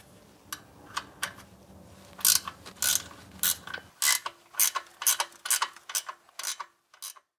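Ratchet wrench loosening a 12mm bolt on the air conditioning belt of a Hyundai Getz engine, giving quick repeated clicking bursts in short uneven runs, close and crisp, with some low background noise that drops away midway.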